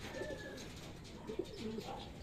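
Soft racing pigeon coos, a few low throaty calls repeating close by over a steady background hum.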